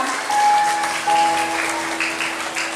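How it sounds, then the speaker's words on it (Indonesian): An audience claps for three dancers at an Indonesian Independence Day celebration, a steady burst of applause that holds loud throughout, with a faint hum beneath it. "tepuk tangan dong untuk mereka bertiga"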